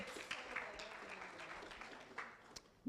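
Light applause from a conference audience at an e-waste business discussion, a thin patter of scattered clapping with a few sharper claps and faint voices underneath.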